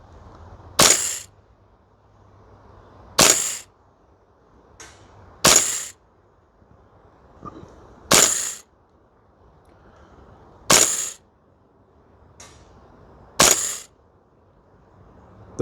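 Six evenly spaced single shots from a VFC L403A1 airsoft rifle on an outdoor range, each a sharp crisp crack with a faint mechanical click, separated by about two to three seconds of quiet.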